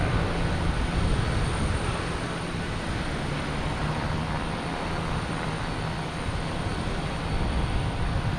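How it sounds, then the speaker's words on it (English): An Alaska Airlines Boeing 737 MAX 9 at Boston Logan airport gives a steady, loud broadband jet engine roar that holds evenly throughout, without talk. "Alaskan Airlines heading to Portland. 737 MAX 9."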